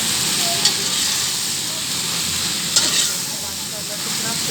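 Macaroni tipped into shredded colored cabbage and vegetables frying in a pan, giving a loud steady sizzle with a couple of brief sharp clinks, close and continuous with no voices.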